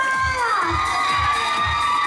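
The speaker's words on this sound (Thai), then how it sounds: "ขอเสียงปรบมือดังๆให้กับพี่ฮัทสิค่ะ" Lively crowd at a Thai charity meet-and-greet event cheering and shouting loudly, with high excited voices and a bright whistling tone over a rhythmic low thumping of music throughout.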